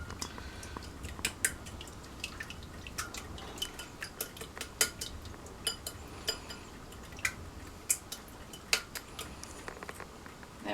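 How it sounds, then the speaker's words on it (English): Eggs being whisked in a too-small bowl for a goat's cheese omelette, a steady run of quick clinking utensil taps against the bowl with light liquid slosh, close and fairly quiet. "Just going to get that warming up while I whisk the eggs."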